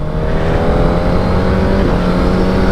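2021 Suzuki GSX-R1000RR sportbike engine pulling hard under acceleration, a loud, steady, buzzing roar mixed with wind rush, recorded up close from the rider's position without any talking.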